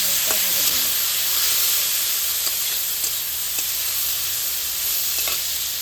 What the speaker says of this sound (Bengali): দেখো, আমার মাছটা কিন্তু ভাজা হয়ে গেছে, দেখতে পাচ্ছ।